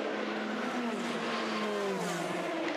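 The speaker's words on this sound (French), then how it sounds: "la voiture de Gabriel Aubry. L'arrêt de l'Oreca du Jackie Chan DC Racing numéro 38" An Oreca LMP2 race car, Jackie Chan DC Racing no. 38, at the 2019 24 Hours of Le Mans pit stop, its engine a loud continuous drone with shifting pitch and steady racetrack roar.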